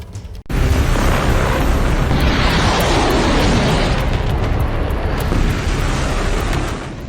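Continuous heavy roar of explosions from missile strikes on Beirut, a sudden loud blast that rumbles on for several seconds at steady intensity before easing slightly.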